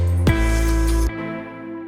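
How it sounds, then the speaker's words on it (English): A massive synth pad swells with its filter cutoff automated, bright and full before dropping abruptly to a softer sustained tail, alone without talk. "this is just a massive pad with some automation here on the filter cutoff"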